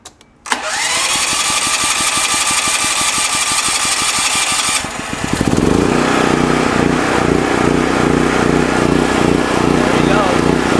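A generator engine started from a battery jump starter with no battery fitted: it bursts into life abruptly and runs loud and steady, then shifts into a heavier, rougher running note partway through.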